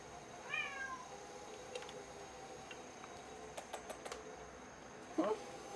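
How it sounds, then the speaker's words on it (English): A small cat gives a faint rising meow early on in a quiet pottery studio, with light ticks and taps nearby and a second short, sharper cry near the end. "You guys hear this little guy meowing?"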